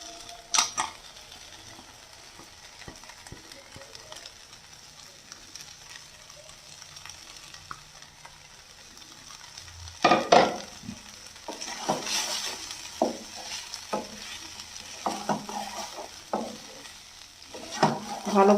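Soaked, softened oats for oats pulao being stirred and fried in a pan, with scraping spoon strokes and a low sizzle, quiet at first and then busier with repeated clattering stirs in the second half.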